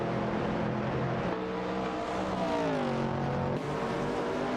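Race cars, including a Ford Falcon and a Maserati Bora, roar in an AI racing video game, engines droning and revving steadily with shifting pitch as several cars run close together.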